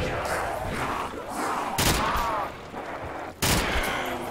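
Repeated video-game gunfire on a custom shooting-range map, with two sharp loud shots standing out over a continuous busy background of fire and effects.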